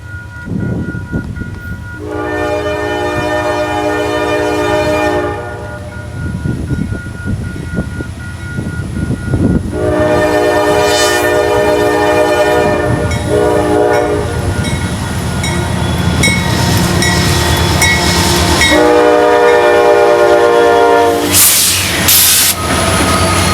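A Norfolk Southern freight train meets an eastbound train near Chicago's East Side, its horn sounding in three long loud blasts over a steady, heavy rumble of passing cars.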